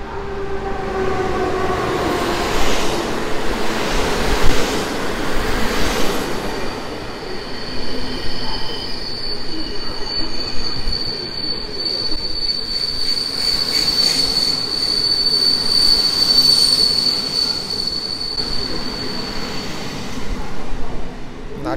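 An Intercity Wybrzeże passenger train pulls into a Polish station platform, its wheels letting out a sustained high metallic squeal over rumbling rail noise, continuous and fairly close.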